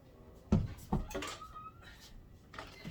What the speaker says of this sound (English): That's our bathroom door.